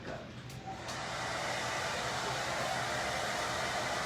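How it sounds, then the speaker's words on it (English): A hairdryer blows nearby and evenly, drying paint on a pumpkin, its broad airy rush swelling slightly after the first second and then holding steady. "hand me the hairdryer"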